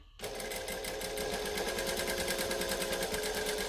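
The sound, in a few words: sewing machine stitching and back stitching fabric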